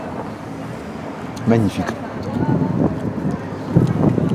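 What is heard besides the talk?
wind blowing into the microphone outdoors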